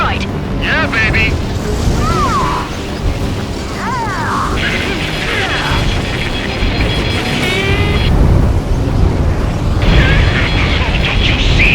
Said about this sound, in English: Confirming explosions.